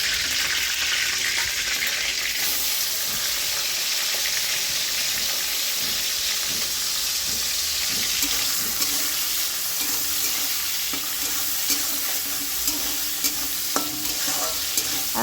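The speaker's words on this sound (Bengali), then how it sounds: "এখন চিংড়ি মাছটা লাল লাল করে ভেজে তুলে নেবো" Shrimp frying in a pan give off a loud, steady sizzle that fills the whole stretch, with scattered light clicks of stirring and no talking.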